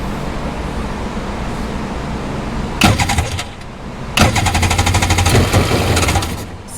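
A Rotax 951 engine in a used Sea-Doo XP Limited watercraft cranks in two bursts, catching only briefly and sputtering rather than running, loud and close, with no one talking.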